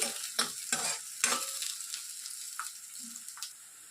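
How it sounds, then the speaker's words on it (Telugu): Onions fry in a pan while being made into a chicken roast, with a low sizzle behind several sharp scraping stirs early on, then quieter sizzling with occasional taps. "ఆనియన్స్ కొద్దిగా బ్రౌన్ కలర్లో వచ్చేంత వరకు ఫ్రై చేసేయండి"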